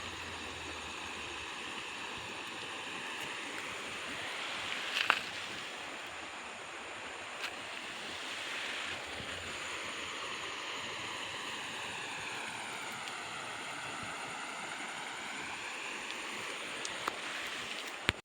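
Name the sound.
rain-swollen river flowing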